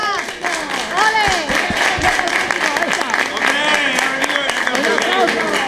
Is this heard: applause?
yes